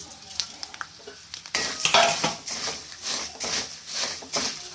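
Puffed rice is stirred in a hot oiled pan for a spicy Karapori snack, with a spoon scraping and clattering against the metal over a steady sizzle, in irregular loud strokes.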